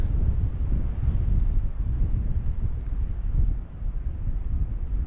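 Strong winter wind in the mountains buffets the microphone with a steady low roar and gusty rumbling throughout, no voices present.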